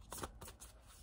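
Tarot cards are shuffled in quick, soft riffling bursts, close but very quiet, with a brief flurry of papery slaps and no voices.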